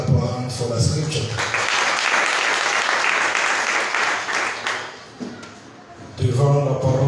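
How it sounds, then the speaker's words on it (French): A church congregation in Nairobi, Kenya bursts into sustained hand clapping lasting about four seconds, with a voice speaking just before and just after the applause. "Let us clap our hands for the scripture."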